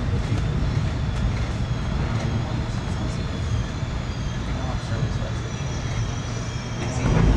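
Steady rumble and rolling rail noise inside a Caltrain commuter train on a sunny day, a continuous low drone with faint clicks throughout, no talking.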